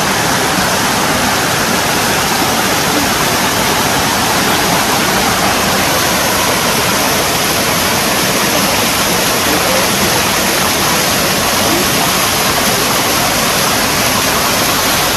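A waterfall and a narrow stream near Pokhara give a dense, unbroken roar of rushing water, loud and close, steady for the whole stretch with no pauses or voices.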